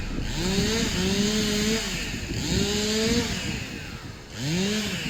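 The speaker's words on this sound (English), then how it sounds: "Bit of Texas Chainsaw Massacre in the background" Chainsaw buzzing at a golf club, heard in repeated revving bursts that rise and fall, each lasting about a second, fairly distant and steady under outdoor air noise with no talk.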